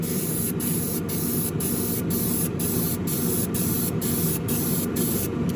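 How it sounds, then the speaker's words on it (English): Lacquer sprayed wet from an airbrush onto a scale Ferrari SF90 Spider model, a continuous close, loud, even hiss with no talk. "But this lacquer likes to be sprayed on wet."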